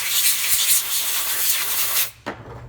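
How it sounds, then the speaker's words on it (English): An air nozzle blasts compressed air to blow debris off a broken model, a loud continuous hiss that cuts off abruptly near the end, followed by a brief second puff. "So I'm just going to use the air nozzle"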